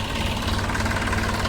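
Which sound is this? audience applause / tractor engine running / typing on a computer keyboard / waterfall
tractor engine running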